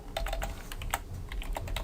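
Rapid, irregular keystrokes on a computer keyboard while entering a date input field in code, close and clear with no voices.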